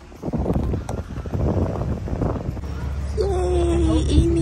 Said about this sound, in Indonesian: Ih, angin.